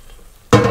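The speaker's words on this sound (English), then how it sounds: "So as you can see, they're sizzling away in there" Meat-free burgers start sizzling loudly in a frying pan after a quiet moment, a close, steady hiss and crackle of frying with no voices.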